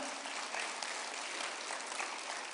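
A church congregation claps in a brief, faint burst of applause. The clapping is steady and somewhat distant and lasts under three seconds.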